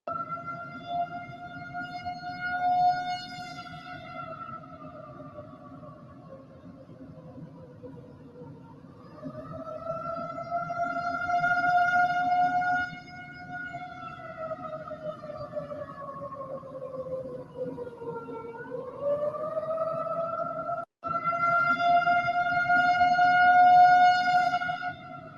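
Tornado warning sirens wail during a huge storm in Chicago, rising and falling in long distant cycles over a steady low rumble of background noise.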